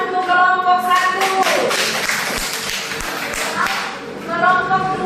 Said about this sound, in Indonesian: coba tepuk tangan untuk kelompok 1